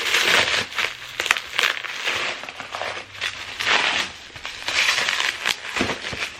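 A curriculum package being torn open, steady crinkling and ripping of plastic wrap and paper close by, in repeated bursts with no talking.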